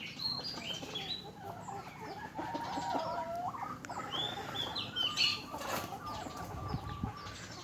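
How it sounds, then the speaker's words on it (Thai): Mixed flock of chickens, including bantams and junglefowl, clucking and calling close by, with bursts of wing flapping and scattered bird chirps. "ไก่เยอะไก่แจ้ไก่ป่า"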